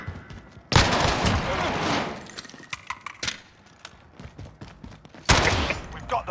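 Gunfire bursts from a multiplayer shooter video game, with sharp loud volleys near the start and again toward the end, scattered smaller shots and clatter in between, and faint voice chatter underneath.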